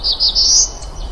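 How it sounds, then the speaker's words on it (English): A black-throated blue warbler in Maine woods delivers a close, loud song of three rising buzzy notes, the last one drawn out, over quiet woodland ambience. "I can see why the black-throated blue warbler is singing."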